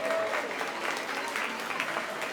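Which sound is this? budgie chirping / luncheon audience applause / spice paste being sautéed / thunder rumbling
luncheon audience applause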